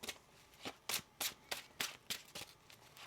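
Tarot cards are riffle-shuffled by hand in a series of about ten quick, crisp bursts, close and fairly quiet, with no talking.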